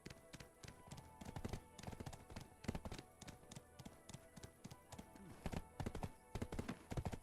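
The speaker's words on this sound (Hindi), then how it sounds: "ये कैसे डैश करके कैसे चलता है घोड़ा?" Horse hooves galloping in the Black Desert Online video game, a fast, continuous run of rhythmic clip-clop beats, fairly close and steady throughout.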